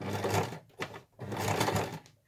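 A sewing machine stitching thick bunting fabric runs in two quick bursts with a brief pause between them, close but fairly quiet.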